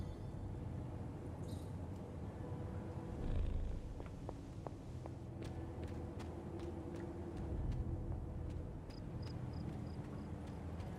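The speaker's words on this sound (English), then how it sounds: "Pet the Kitty." Cat purring while being petted in Marvel's Midnight Suns, a soft low rumbling purr running steadily at a quiet level, with faint scattered game clicks and chimes and no talking.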